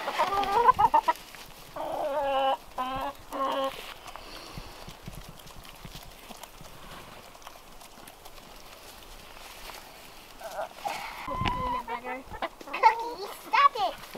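Backyard chickens cluck and squawk in short bursts near the start and again toward the end, close by, with people talking between the calls.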